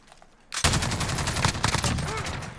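An HK121 MG5A2 machine gun fires in Call of Duty Modern Warfare, loud rapid automatic bursts running continuously for about two seconds with brief breaks, close and dominant.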